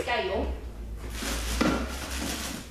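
A great big pot is handled in a home kitchen during a cold-process soap-making batch, giving a few soft clanks and one sharper knock amid steady room noise while a person talks throughout.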